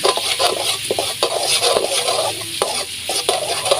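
Garlic fries in hot oil, a busy close sizzle broken by repeated sharp scrapes and knocks of a spatula stirring against the pan, fairly loud with no talking.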